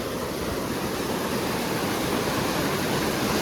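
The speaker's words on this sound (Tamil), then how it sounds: "பார்க்க தான் தண்ணி ஏதோ சும்மா அங்கே இருக்க மாதிரி இருக்குது. ஆனால் பயங்கர வேகமாக நம்மளை இழுத்துட்டு போகுது." Fast, rain-swollen river water rushing near a bridge, a loud, steady broadband roar that fills the whole stretch with no pauses and no voices.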